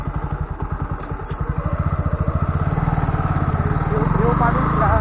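A Bajaj NS125 motorcycle being ridden gives a loud, close, rapidly pulsing engine note that grows steadier and fuller as the ride goes on.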